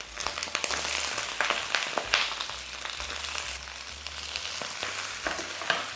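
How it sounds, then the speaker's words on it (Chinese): Shiitake mushrooms and cabbage stir-fried in a large wok for fried rice noodles, a busy crackling sizzle with frequent sharp scrapes and clacks of the spatula, fairly close and uneven in rhythm. "这个冬菇爆香了，我们就下包菜"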